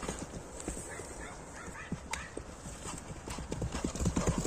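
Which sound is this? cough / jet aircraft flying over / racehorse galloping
racehorse galloping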